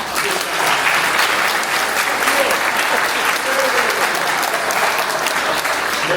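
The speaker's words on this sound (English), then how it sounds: "So I think we need to put a round of applause just for the work of that handiwork of this" Audience applause fills a maritime memories exhibition hall, a dense, steady wash of many hands clapping together at full strength throughout, with no pauses or talk.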